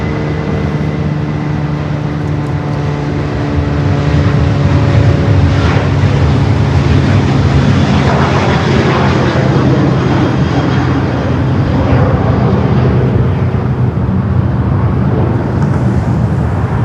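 A Delta airliner takes off at LAX with a loud, close engine roar that swells and rumbles continuously, carrying steady tonal hums beneath the broadband noise.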